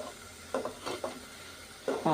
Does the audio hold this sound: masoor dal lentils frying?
yes